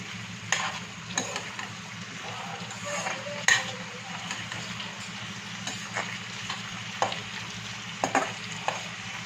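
Capsicum and chilli chicken stir-fried in a pan, with a steady sizzle under repeated scraping and stirring strokes from a spatula and occasional sharper clinks against the pan.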